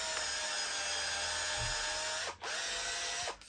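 A 2008 Makita cordless drill bores a 12–14 mm auger bit through oak, a steady high whine running nonstop with two brief dips near the end as the load shifts.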